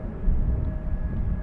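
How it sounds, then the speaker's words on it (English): A departing Air Portugal airliner passes overhead at Amsterdam Schiphol Airport, a loud, steady, rumbling roar with a faint whining tone, heard alone. "What you're hearing is a departing plane just flying over us"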